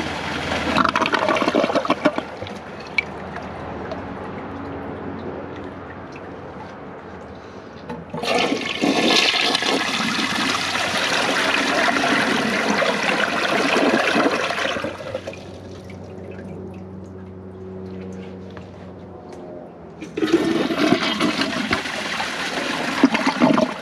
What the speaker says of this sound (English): Let's give them all of a flush.